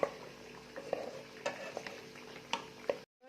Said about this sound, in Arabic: حطيت البصله ونقعد نقلي فيها حتى تدبل البصله تبدل اللون تاعها